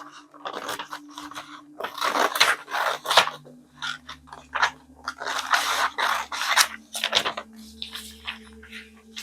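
Scissors cutting through sweatpants fabric, a run of crisp snipping and crunching strokes in quick bursts, close up, over a low steady hum from an appliance.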